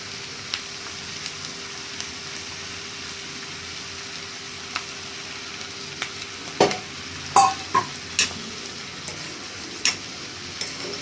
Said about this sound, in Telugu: ఇలా కలిపేసుకొని మొత్తం మగ్గించుకోవాలండి.